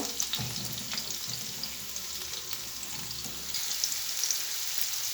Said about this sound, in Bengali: দিয়ে দেব পেঁয়াজ কুচি আর কিছু কাঁচামরিচ কেটে নিয়েছি এগুলো দিয়ে আমি ভালো করে একটু তেলে ভাজি করে নিব